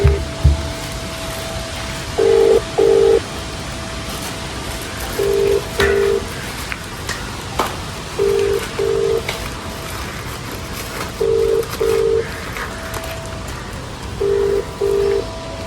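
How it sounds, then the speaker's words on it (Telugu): A phone call rings out as a repeating ringback tone, paired short beeps recurring about every three seconds, heard over a steady hiss of background noise outdoors. "వేణుగానికి అయితే ఫోన్ చేస్తున్నా."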